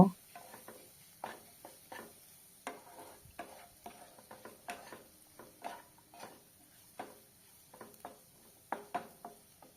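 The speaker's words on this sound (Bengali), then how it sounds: "ময়দাটাকে ভালোভাবে সবজির সাথে মিশিয়ে নেব" Flour being stirred into vegetables in a pan, giving a series of soft irregular scraping and tapping strokes at a fairly quiet level, with no talking.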